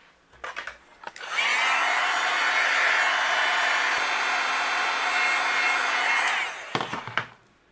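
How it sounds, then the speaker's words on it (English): A heat gun blows steadily for about five seconds to melt white embossing powder on a card-making project, a loud even whoosh that switches on and off cleanly with light handling noises around it. "I'll use my heat gun and we'll go ahead and melt this."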